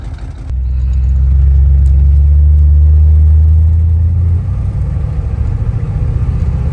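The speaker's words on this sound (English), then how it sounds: "It's idling about 700 or 800 RPMs." A 1949 Ford Custom Club Coupe with a 302 V8 and FMX automatic idles around 700–800 RPM, a steady low rumble close by that holds even throughout with a slight drop in level partway.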